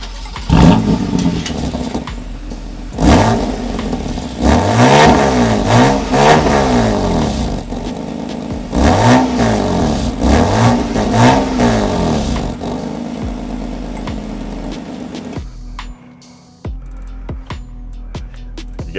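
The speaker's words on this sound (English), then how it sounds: "Get that great sounding engine for a start." A 2017 BMW M3 Competition engine revs up in repeated sharp climbs and drops, loud and close, with bursts of acceleration separated by brief idles before fading at the end.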